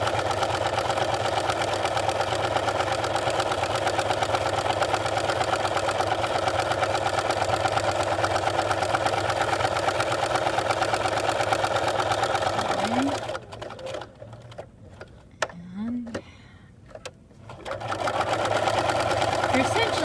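Sewing machine stitching through three layers of a hot pad at a 5/8 seam, a steady loud mechanical whir running continuously, then pausing briefly twice as the fabric is turned at corners before resuming.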